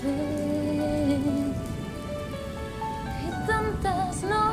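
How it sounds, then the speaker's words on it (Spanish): Steady rain patters beneath a musical accompaniment of sustained tones and melody, with the downpour heard as a continuous hiss behind the music. "Hoy llueve"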